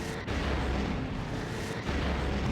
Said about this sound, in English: Squad, open fire.